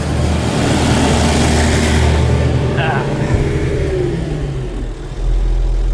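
A harvest vehicle's engine idles down after bagging wet grain, a loud, steady low rumble with a mid-range whir running continuously close by, dipping slightly near the end before settling again.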